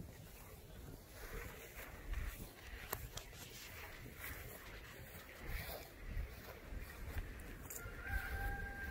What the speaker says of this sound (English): Slade, can you do something about that stupid bird?